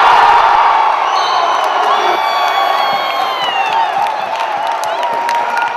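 Home crowd at an NJIT Highlanders college basketball game against Bryant cheers and whoops loudly and steadily, a dense roar with shouts and scattered clapping, late in a tense close finish.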